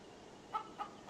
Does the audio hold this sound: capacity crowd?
no